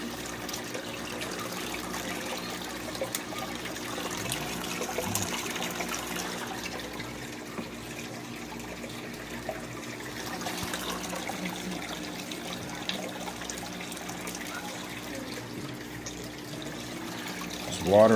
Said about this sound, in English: Just watering up right quick.